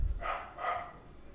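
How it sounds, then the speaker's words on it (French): A dog gives two quick, muffled barks, somewhat distant and moderately quiet, one right after the other against a low background. "on a parlé de vélo, le chien est pas content"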